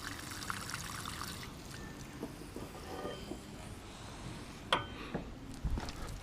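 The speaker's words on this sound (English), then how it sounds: "And just confirm that that water is coming out" Water trickles and dribbles out of the moonroof drain holes at the bottom of a Toyota Land Cruiser 200, a soft steady flow with faint splashes and a few sharper drips near the end.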